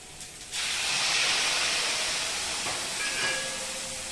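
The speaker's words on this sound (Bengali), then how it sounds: "তোমরা দেখতে পাচ্ছ আমি গরম জল দিলাম" Hot water is poured into frying spices and tomato for a Bengali-style fish curry. A sudden, loud steamy hiss erupts and holds steady for several seconds, then eases slightly.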